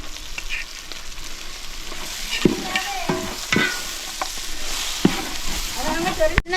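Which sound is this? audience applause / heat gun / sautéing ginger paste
sautéing ginger paste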